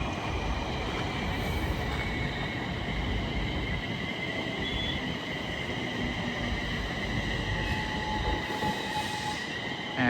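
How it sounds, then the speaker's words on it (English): A London Northwestern Railway Class 350 electric multiple unit arrives at Nuneaton station on the West Coast Main Line, with a loud continuous rumble, wheel and brake squeal and a faint rhythmic clatter of wheels over rail joints. "Incoming now will be the 1214. London North Western Railway service from Crewe to London Euston."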